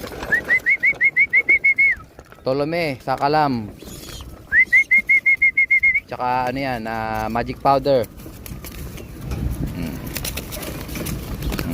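Pigeons in a loft: repeated rhythmic cooing and bird calls come in bursts, with people talking nearby and wing flaps breaking in.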